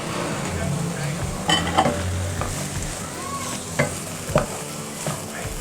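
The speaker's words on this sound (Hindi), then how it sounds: "बिल्कुल हल्का हल्का हम इसको यहाँ पर फ्राई करेंगे और साथ में मैं इसके अंदर जो है वो हरी प्याज डाल दूंगी।" Green onions frying lightly in oil while being stirred, a steady close sizzle with a few sharp scrapes and clinks of a utensil against the pan.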